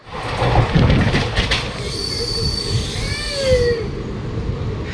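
Black Diamond Express, running from Howrah to Dhanbad, rolls along with loud metallic wheel squeal, rumbling wagons and a sharp rising screech midway, heard continuously from close by.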